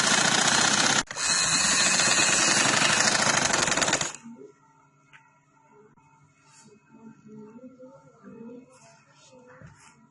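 Sewing machine stitching a cotton frill on a girl's frock, a loud fast steady mechanical rattle with one brief pause, stopping after about four seconds, followed by quiet room noise and faint sounds.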